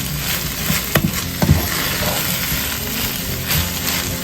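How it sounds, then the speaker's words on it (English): Rice toasting in melted butter in a pan gives a soft, steady sizzle and frying crackle, with a few sharp scrapes or taps as the grains are stirred and spread around. "I'm kind of toasting the rice a little bit."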